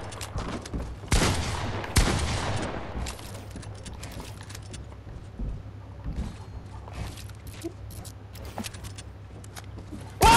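Fortnite gunfire, a few sharp loud shots near one and two seconds followed by scattered quieter game clicks and thuds over a steady low hum, ending with a loud burst.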